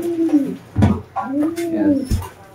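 Pigeons coo in soft, rolling, low calls close by, with a couple of rustling thumps, while someone speaks in Filipino over them.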